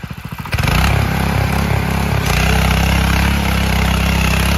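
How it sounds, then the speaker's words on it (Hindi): A Sraja R117 petrol power weeder is pulled to start: a few quick cranking pulses, then the small engine catches and runs at a loud, steady, buzzing roar close by, with a slight shift in pitch partway through. "चलो, स्टार्टिंग देखो भाई मशीन की।"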